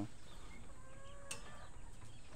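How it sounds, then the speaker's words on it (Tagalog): Soft clucking from chickens nearby, a few faint warbling calls over quiet background noise, with a brief sharp tick midway. "sa mga manok natin dito"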